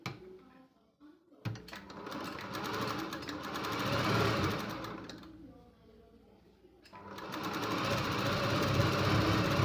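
An electric sewing machine stitches a blouse strip in two long, steady runs of rapid needle chatter, each ending in a brief pause.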